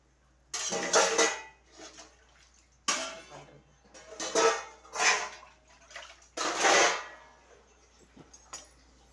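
Wet liquid is poured into a pot in a series of separate splashing, sloshing pours, each a few seconds long, with brief quiet gaps between them and no talk.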